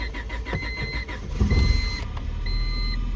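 The engine of a 1999 Honda Civic with a stalling problem idles steadily up close, a low continuous rumble with a faint whining tone over it and a brief surge midway.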